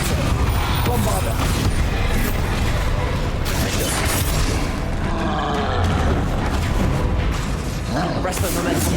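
The Bombarda blasting spell erupts in Hogwarts Legacy as dense, loud booming explosions with crackling debris throughout, alongside a voice calling out.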